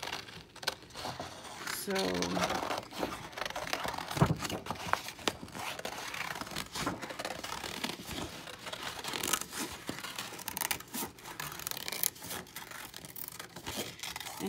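Scissors cut through paper for crafting paper roses, a steady run of small snipping and rustling sounds up close, with a voice talking over it.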